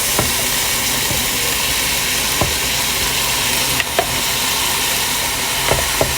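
Leftover garlic butter shrimp and rice are stirred together in a hot pan, a loud steady sizzle and hiss with a few spatula knocks and scrapes spaced across it.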